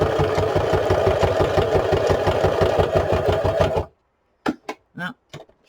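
Steady fast rhythmic whirring of a sewing machine stitching around the edges of a junk journal book cover, loud and continuous before stopping abruptly, followed by a few brief scrapes and clicks.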